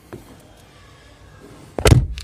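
A car door unlatches with a solid thunk and swings open, a short burst of rattly mechanical noise following a quiet lull.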